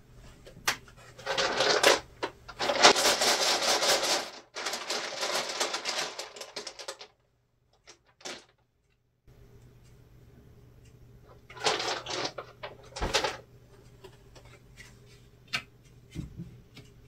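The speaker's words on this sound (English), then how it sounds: "And some dice." Dice clatter and rattle in bursts of dense clicking, with a pause and some isolated knocks before another round of rolling clatter, close and fairly quiet.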